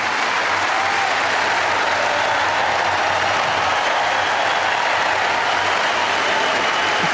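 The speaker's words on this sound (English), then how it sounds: "You can hear the crowd just trying to get Paolini going" Steady, broad applause and cheering wash through the Wimbledon crowd at the ladies' final as spectators urge on Paolini, a continuous, full roar of clapping with a faint low rumble beneath.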